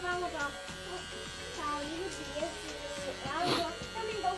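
An electric shaver buzzes steadily during a child's haircut, a close continuous hum that shifts in pitch as it moves, with people talking over it.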